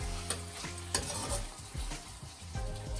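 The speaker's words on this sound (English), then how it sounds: "a heaped teaspoon into each, so that's minced garlic. So I'm just going to turn it a little bit, stir it a bit" Minced garlic sizzles and fries in a pan while a utensil stirs and scrapes through it, steady close frying with soft scraping strokes and no voices.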